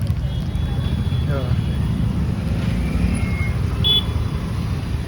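Heavy, fully jammed road traffic on the Wakad-Hinjewadi road at night: a steady, dense rumble of engines close by with a few brief higher tones, continuous throughout.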